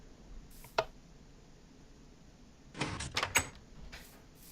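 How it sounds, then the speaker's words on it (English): A Minecraft redstone piston door opening in the game, a single sharp mechanical clack followed by a clustered burst of pistons sliding and thudding, close and clear with no speech. "And now, as you can see, the door is open."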